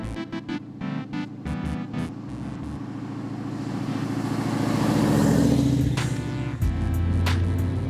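A custom Chevy Impala lowrider engine gives a few short revs, then climbs into a longer loud rev and drops back to a rumbling idle, heard close by.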